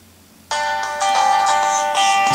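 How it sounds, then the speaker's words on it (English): A Samsung Galaxy S3 plays its incoming-call ringtone, starting abruptly out of near silence and continuing as a loud, bright electronic melody with repeating tonal phrases, close and clear, no talking over it. "here's a phone call coming in"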